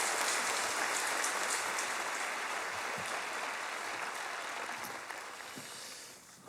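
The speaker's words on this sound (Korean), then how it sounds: "우리 크게 주님 앞에 감사하는 박수 올려드리겠습니다" Church congregation at an early-morning revival service applauding, a broad, even roar of clapping that stays strong before tapering off near the end.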